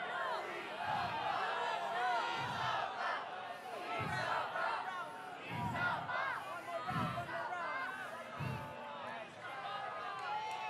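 Loud crowd at the Red Bull Dance Your Style Philippines 2024 top-four dance battle roars and cheers in sustained waves to vote, with shouting voices over booming bass thumps from the venue.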